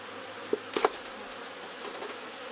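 Honey bees on a hive frame give a faint, steady buzz, with a few brief louder passes from individual bees close by near the start.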